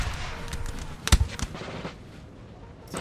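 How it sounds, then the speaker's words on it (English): Musket volleys from massed Napoleonic infantry in Napoleonic Total War 3 crackle as a cluster of sharp, close reports bunched near the middle, with scattered fainter pops trailing off into quieter battle ambience. "All these troops here, guys, are firing on this one unit."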